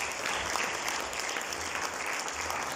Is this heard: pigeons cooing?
no